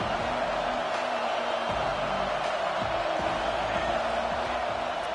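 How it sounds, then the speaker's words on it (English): Roaring stadium crowd at a college football game involving Auburn, a loud, unbroken wall of crowd noise with a commentator's voice running over it. "This crowd bringing the energy and noise early."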